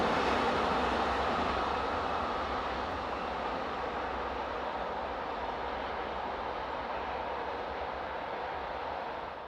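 French diesel locomotive 67591 hauls the 0729 Strasbourg to Wissembourg passenger service, a steady broad rail rumble and engine drone held at moderate distance and easing slightly at the end, no talking.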